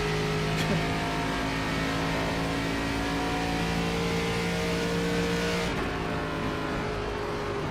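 An ARCA race car engine in iRacing at Pocono drones at a steady high pitch with a brief rev shift near the end, loud and continuous with synthetic game-like tone.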